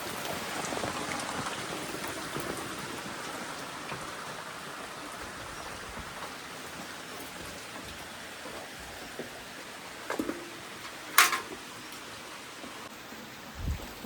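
Heavy rain falls steadily over a village, a dense even hiss lasting throughout, with a few brief louder knocks and clatters near the end and no talking.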